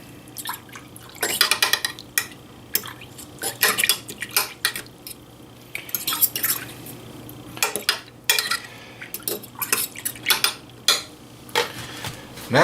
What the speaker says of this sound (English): Now, use this fork. Now we get that stirring going on.